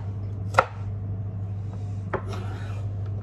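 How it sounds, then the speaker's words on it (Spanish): An onion being cut by hand gives a few separate knife taps against a board, one sharp strike followed by a softer pair, faint and close over a steady low background hum. "Seguimos cortando aquí la cebolla."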